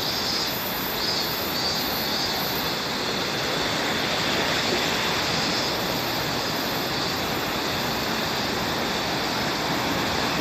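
A swollen river rushes through Akiyoshido limestone cave after a typhoon, a loud, steady, broadband roar of churning water that continues unbroken throughout, with no voices.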